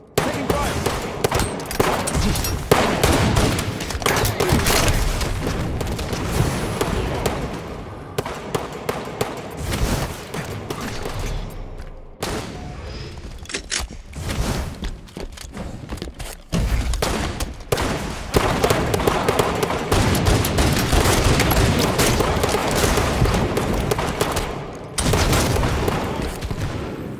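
Rapid, dense gunfire in Halo CE, loud bursts and continuous automatic shooting with booms, briefly easing midway before resuming, with occasional voice callouts over it.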